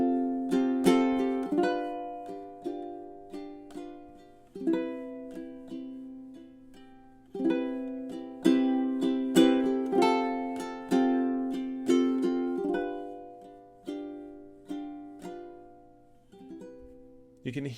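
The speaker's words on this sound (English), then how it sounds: "I'm going to do my very basic strum pattern, and I'm going to use my thumb on the first strum" A ukulele played in a basic strum pattern, the first strum of each group made with the thumb, a close, clear run of rhythmic chord strums with ringing decays and chord changes, unaccompanied.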